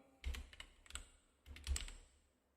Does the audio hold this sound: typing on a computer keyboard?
yes